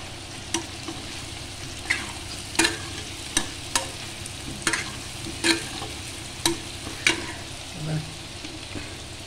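Potatoes frying in a pan with a steady low sizzle, broken by regular sharp scrapes and clinks of a stirring utensil roughly every second, close and fairly loud with no talking.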